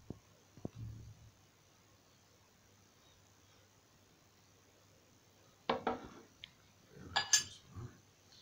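A metal spoon clinks and scrapes against a glass jar while a homemade natural cough syrup is spooned in; a faint tap early on, then two short bursts of clinking near the end, all fairly quiet with no talking.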